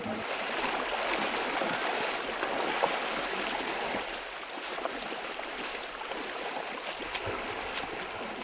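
Water rushes and burbles steadily over stones, a continuous close-up flow of the Suyan river with no voices.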